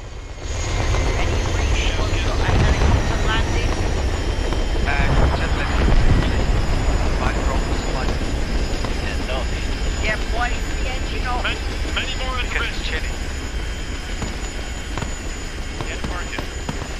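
A Chinook helicopter in the video game Arma 3 (Vietnam setting), its heavy rotor and engine drone steady and loud under continuous talk for the whole stretch.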